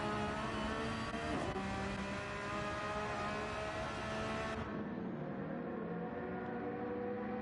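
A GR3 race car in Gran Turismo 7 at Spa accelerating at full throttle, loud sustained engine roar rising through the gears, with a sharp drop in tone near the end as it shifts.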